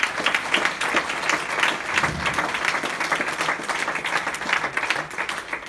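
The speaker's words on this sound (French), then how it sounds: "j'aimerais que vous les applaudissiez parce qu'ils se donnent énormément" Conference audience applauding steadily, a dense continuous patter of many hands clapping at moderate loudness throughout, with no speech over it.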